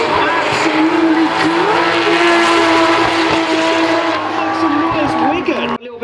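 Drift cars race at a BDC British Drift Championship round at Three Sisters circuit, engines roaring loud and close with tyres squealing, while a commentator talks over the noise throughout.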